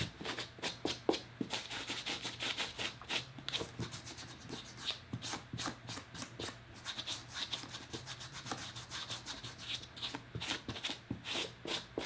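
Suede leather shoe being brushed with a cleaning solution to lift dust and dirt: quick, rhythmic scratchy bristle strokes repeating steadily and close up, fairly quiet, with no talking.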